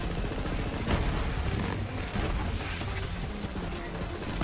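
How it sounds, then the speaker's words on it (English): Single shots from a gun in Borderlands 3, rapid mechanical cracks and clattering bursts layered over game background noise, with no speech. "I'm shooting singular shots here."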